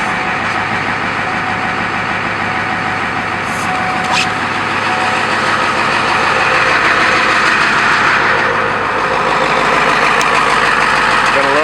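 A high-mileage old diesel engine in a Ford F350 ramp truck runs steadily throughout, a continuous loud rumble with a dense mechanical clatter close by and no talk.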